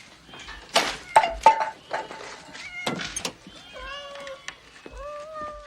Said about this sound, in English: Love that there was a cat in the cupboard